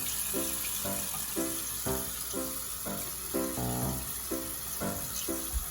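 Water runs steadily from a tap for washing up, a continuous hissing flow beneath a repeating, pulsing tonal pattern that plays over it in a regular rhythm.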